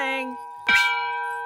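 A temple bell rings out twice: a lingering metallic tone fades, then a fresh strike brings a bright clang with long shimmering overtones that sustain to the end.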